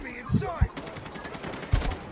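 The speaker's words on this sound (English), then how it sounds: "Why are you shooting at the ground?" Gunfire from the mobile shooter Call of Duty Mobile, a few short sharp bursts of shots spread across the moment, mixed with game sounds in the background.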